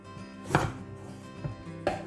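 A knife cutting a butternut squash in half, two firm chopping thuds roughly a second apart with quieter cutting sounds between them, close and alone.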